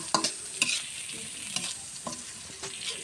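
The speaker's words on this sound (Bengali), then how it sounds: "এটা আমার মশলা পেঁয়াজ এগুলো লাল লাল ভাজা হয়ে গেছে" Onions and spices fry in hot oil with a soft steady sizzle, punctuated by several sharp scraping clatters of a spoon stirring in the pan, close up with no talking.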